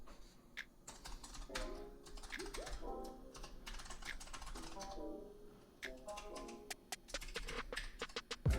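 Fingers type an email address and password on a computer keyboard in quick, uneven bursts of close, crisp key clicks with short pauses, while a voice talks quietly underneath.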